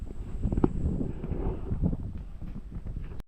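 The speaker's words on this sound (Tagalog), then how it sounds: "Pagkalakas ng hangin" Strong wind buffets the microphone in low, rumbling gusts, with a rustling, blustery texture throughout and no speech.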